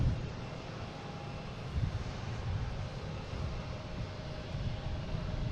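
An American Airlines A319 airliner rumbles in on arrival at Boston Logan, a broad, distant jet roar blended with wind buffeting, steady and moderately faint throughout.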